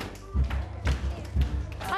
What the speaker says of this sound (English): I can stamp my feet